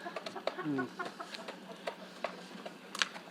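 Soft clucks and short calls from a Swedish rooster, scattered through the moment with a brief warble, fairly close and moderately quiet.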